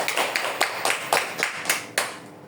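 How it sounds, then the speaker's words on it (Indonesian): A group of participants at a training session clapping hands together in a rhythmic pattern, about ten sharp claps in a steady beat with a slight rolling echo in an indoor room. "tepuk tangan dulu buat semua kelompok nih"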